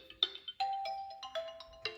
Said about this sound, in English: that has to be the cheapest ringtone I've heard since about 1983.